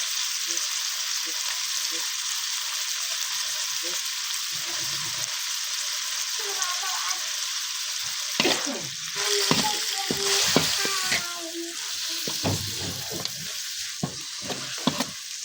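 Thai fish curry with bamboo shoots frying in a pan, a steady close sizzle with stirring clatter as leafy herbs are tossed in; a voice talks briefly partway through.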